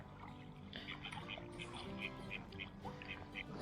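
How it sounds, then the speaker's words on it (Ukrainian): Several ducks, mostly drakes, quack in repeated short calls on a lake during a February evening feeder fishing session, steady and moderately near over a low outdoor hum. "Дивіться, друзі, скільки тут качок."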